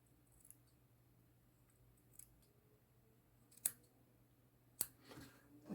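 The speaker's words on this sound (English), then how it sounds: "So we cut it again, more or less in the middle." Scissors snip through cotton wick for a vape coil, a few faint, close, sharp clicks spaced seconds apart in an otherwise quiet room, with no talking.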